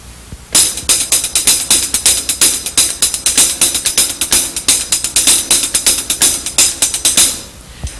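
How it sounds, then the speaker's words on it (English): A drummer plays a paradiddle snare-drum solo pattern on the hi-hat: a steady, fast stream of crisp, bright metallic ticks with regular accents, close and loud, starting after a brief pause and stopping cleanly near the end. "I'll play it on the hi-hat."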